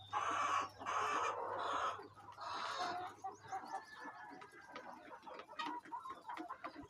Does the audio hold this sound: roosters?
yes